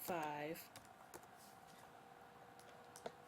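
A brief voice is followed by a handful of faint, scattered computer keyboard taps, as a short number is entered, with light background hum.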